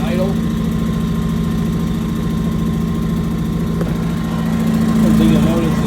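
A Predator 2000 inverter generator idles nearby with a loud, steady engine drone and hum, holding an even pitch throughout, with a voice briefly audible.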